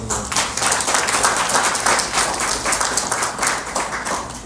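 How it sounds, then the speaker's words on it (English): A graduation ceremony crowd gives a steady round of applause, many hands clapping in a dense, even wash with slight swells, with no talking over it. "I think he deserves a round of applause."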